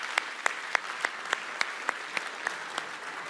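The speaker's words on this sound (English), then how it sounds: "A ripple of laughter through the room and a round of applause." At the Warsaw Security Forum, a room of listeners offers applause heard as evenly spaced, fairly quiet claps with a slow, regular rhythm and a faint room hum between them.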